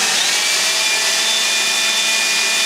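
A DeWALT 20V MAX cordless leaf blower with a concentrated nozzle runs steadily at close range, giving a fairly quiet, even airy whoosh with a faint high whine and no talking.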